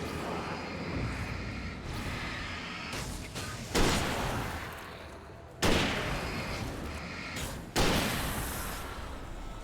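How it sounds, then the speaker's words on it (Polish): Hunting rifle shots in a video game, three heavy booming reports spaced about two seconds apart, each with a long rumbling tail, over a constant low background drone. "Karabin myśliwski to taka broń egzekucyjna dla nich."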